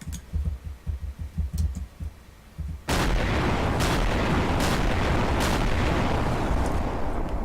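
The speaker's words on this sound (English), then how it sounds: "This salvo would destroy most things you can build" A cannon salvo fires in Garry's Mod: a dull, irregular low thumping, then a sudden loud, dense roar of blasts that holds steady to the end, with sharp cracks bursting through it.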